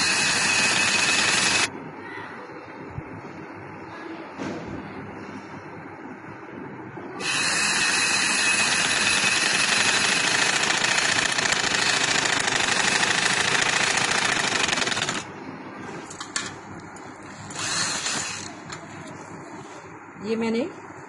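A sewing machine stitches a pathani pajama, running in long, steady, whirring stretches broken by short pauses, then a few brief starts and stops near the end.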